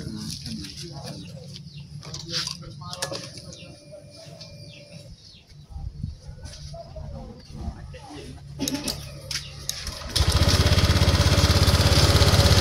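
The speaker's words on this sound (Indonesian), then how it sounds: "Sekarang kita akan coba tes starter. Kita hidupkan kunci kontak." A Honda Vario 150/125 scooter engine cranks and starts, then settles into a loud, steady idle that fills the final seconds, following quieter handling noises and a few clicks.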